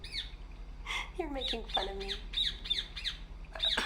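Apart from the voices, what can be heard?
bird squawking in the video game République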